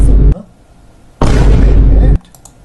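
A loud added explosion effect booms in a single sustained burst of about one second, following a short earlier blast, with louder and quieter patches around it.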